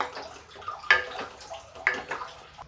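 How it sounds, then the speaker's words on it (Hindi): Hot water is poured into dal in a pot, splashing and gurgling in uneven surges with two sharper bursts, close and moderately loud. "गर्म पानी मिला के इसमें डालेंगे"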